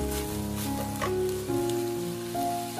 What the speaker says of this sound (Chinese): 我们用大火把生菜给它炒熟炒香